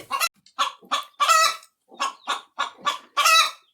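A hen clucks loudly and insistently right after laying an egg, a close series of rhythmic squawking cackles in two bursts, with no talking.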